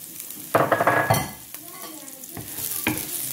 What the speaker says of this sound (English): using the same pan and turning your heat into medium, let's saute our onion for about 1 minute